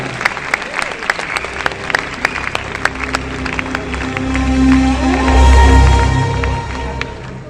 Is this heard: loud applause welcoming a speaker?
yes